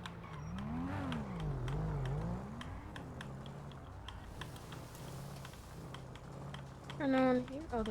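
A badly damaged car engine in the GTA NoPixel game, whining and rising and falling in pitch with a rough idle, under keyboard clatter and a brief high squeal near the end.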